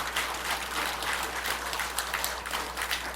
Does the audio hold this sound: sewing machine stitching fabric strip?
no